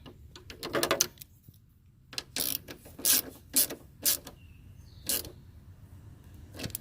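Ratcheting clicks from tightening the top headlight nut on a 1994 Ford Escort, heard as several short, close bursts of mechanical clicking separated by brief pauses.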